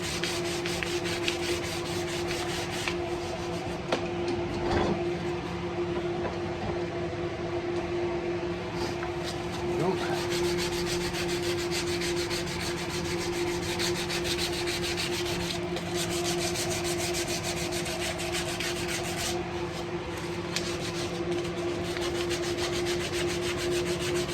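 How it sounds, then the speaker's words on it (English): Continuous rhythmic rubbing of sandpaper on a carved wooden guitar neck, steady back-and-forth scratching close up, with a faint steady hum underneath. "you just kind of go up in grits with your paper like that"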